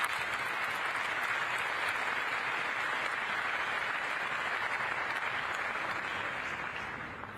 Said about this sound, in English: They definitely need a big round of applause.